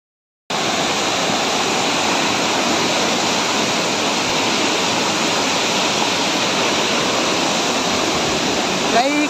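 Uperbedi Waterfall in Keshkal, Chhattisgarh, India: falling water roars as a loud, steady broadband rush that starts abruptly and holds constant throughout.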